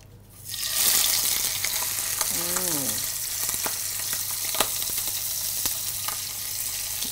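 Prawns sizzle and crackle as they drop into hot cooking oil, with a loud steady frying hiss after a brief quiet start and occasional stirring clicks; one short tonal squeak sounds partway through.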